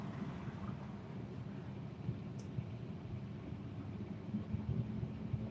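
A worn wheel hub bearing on a VW, damaged by potholes, heard from inside the car while driving: a steady, loud low-pitched droning rumble that continues throughout with no speech.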